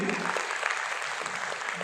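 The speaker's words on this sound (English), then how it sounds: "You can clap loudly." Clapping from an audience at a culture and literature festival talk in Qatar, a short, steady crowd patter at moderate level.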